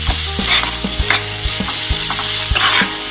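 Masala and paneer gravy stir-fried in a kadhai with chole masala, a bright sizzle under rhythmic heavy knocks and scrapes of a spoon against the pan roughly every half second, close and without speech.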